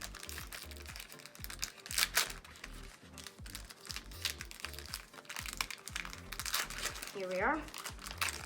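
A Pokémon Champion's Path booster pack wrapper crinkles and crackles close up in quick, irregular bursts, with a voice speaking briefly.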